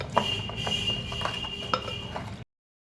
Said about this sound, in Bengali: এটা একটু ভালো করে একটু মিশিয়ে নিই